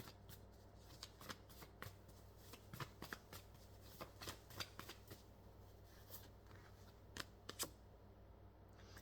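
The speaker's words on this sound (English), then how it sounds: "I'm going to pull some more cards, so let's see what else we get here." Cards pulled and shuffled from an intuitive card-reading deck, quiet close riffles and crisp snaps of card stock repeating irregularly over a faint steady hum.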